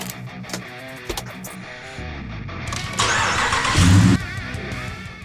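A car engine cranks and starts during an alternator charging-system test, with a brief starter whir followed by a louder roar around the catch before settling into a steady idle, close and alone.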